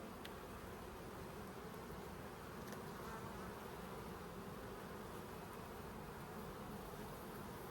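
Honey bees buzz in a dense, continuous drone at an open hive while the honey supers and brood chambers are inspected. The hum is close and unbroken, with no voices.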